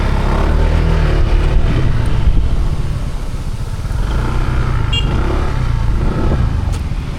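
Motorcycle engine idling and running steadily nearby on a Davao to Cagayan to Marawi adventure ride loop, a continuous loud rumble with no clear revs and no talk over it.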